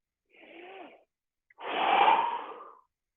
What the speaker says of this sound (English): Don't be afraid to make noise while you're breathing.